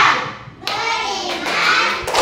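Children clap out the Tepuk Islam clap chant in a classroom lesson, several bursts of sharp group handclaps mixed with young voices, loud and close.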